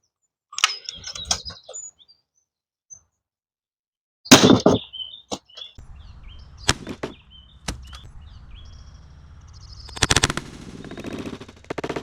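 Umarex HDS68 pistol firing a steel core plastic slug at a target; a few sharp loud cracks and impacts stand out between quiet gaps, with some rustling and handling noise in between.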